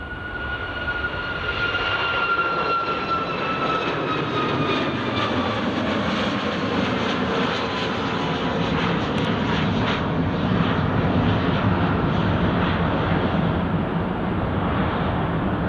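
A Ryanair airliner approaches Edinburgh Airport, its engines a loud, steady, broad roar with a slowly falling whine, heard continuously throughout from fairly close.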